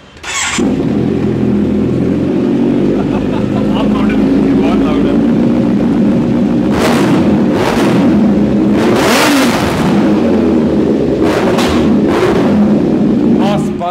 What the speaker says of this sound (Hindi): एक बार इसके एग्जॉस्ट भी सुन लेते हैं